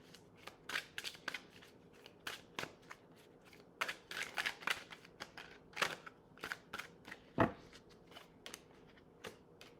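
Tarot cards being shuffled and drawn during a reading, giving a run of crisp papery riffles and snaps at an irregular pace, close and fairly quiet, with one sharper slap near the end.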